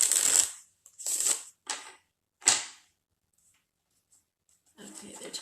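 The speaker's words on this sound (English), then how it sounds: "I don't know if you can hear or not, but I am shuffling." Several short bursts of tarot cards being shuffled, papery riffles close at hand broken by gaps, followed by quieter sounds with a voice talking softly near the end.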